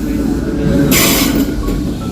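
A metro-style train arrives at a platform in Ireland, rumbling loudly nearby with a rushing hiss of air and wheels, while a person speaks over the noise.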